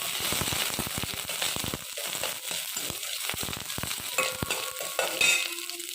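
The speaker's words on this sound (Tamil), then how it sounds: "வெங்காயம் வெங்காயத்தோட கொஞ்சமாக கருவேப்பிலை போட்டு இதை நல்லா வதக்கணும்" Chopped onions with curry leaves, dried red chillies and popped mustard seeds sautéing in a pan, a close crackling sizzle broken by frequent quick scraping clicks of a spoon stirring.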